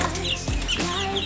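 Kampung chickens in a coop give a short close cluck and a brief chirping call over a steady bed of farmyard noise, with no talking.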